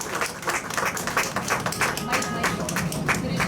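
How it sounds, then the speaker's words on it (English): An audience at a public ceremony giving a short burst of applause, with many hands clapping densely and steadily at close range and a voice faintly underneath. "Now you can clap like really louder."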